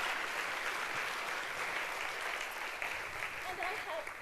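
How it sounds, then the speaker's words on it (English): Steady applause from a conference keynote audience fills the whole stretch, dense and sustained, with a voice briefly audible near the end. "let's give them a round of applause"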